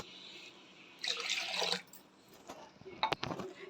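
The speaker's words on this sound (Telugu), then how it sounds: "గ్లాసున్నర పప్పుకి గ్లాస్ వాటర్ పోద్దాము" Water pours from a glass onto washed toor dal in a cooking pot, a splashing gush that starts suddenly, runs for under a second, then trails into a few scattered drips and clinks.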